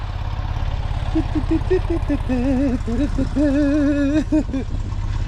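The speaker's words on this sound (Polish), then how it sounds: "Już pyrka. Rozgrzałem mu silnik." A warmed-up Fiat 126p idles with a fast, even putter, steady and close, while a person speaks briefly over the running engine.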